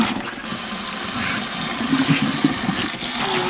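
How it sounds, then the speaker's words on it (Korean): Spring greens (namul) are swished and shaken in a basin of water to rinse off soil, giving a steady sloshing and splashing close by. "이렇게 여러 번 물에 흔들어서 잘 씻어서 준비해"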